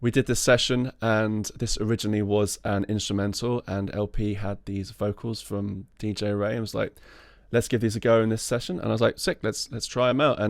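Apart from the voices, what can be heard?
None of the usual background noises is heard.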